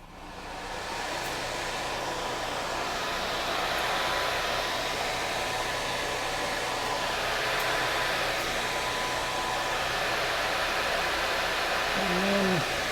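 Steady whooshing whir of a spindle running on a Tormach PCNC 1100 CNC mill, constant and fairly loud throughout with no talking.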